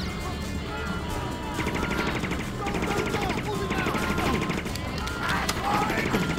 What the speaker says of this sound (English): That's a lovely silent gun.